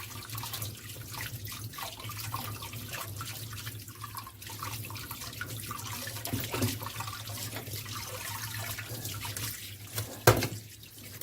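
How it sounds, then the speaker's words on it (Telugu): Raw chicken pieces rinsed under a running kitchen tap, a steady low rush of water with drips and light splashing as the meat is handled and scrubbed, fairly quiet and close with no talking. "ఇలా శుభ్రంగా నీట్గా కడిగేసుకోవాలండి"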